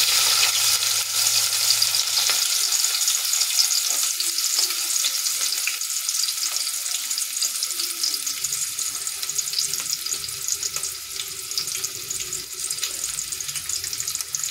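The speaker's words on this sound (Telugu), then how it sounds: "అలాగే కట్ చేసుకున్న ఒక ఉల్లిపాయ, ఒక పచ్చిమిర్చి వేస్తున్నాను." Chopped onion and green chili hitting hot oil with mustard seeds, cumin and fenugreek for a prawn and brinjal curry, giving a loud, steady close sizzle that hisses continuously throughout with occasional stirring.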